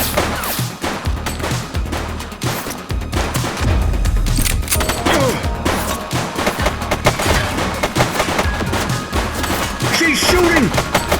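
Gunfire bursts in the police game The Precinct, dense and continuous over a busy, loud mix, with voices calling out across the scene.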